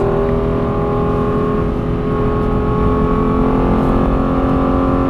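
A Lexus LFA accelerates hard on the Silverstone circuit during a track day. The engine roar is loud, close and unbroken, holding a dense, steady tone throughout with no voices over it.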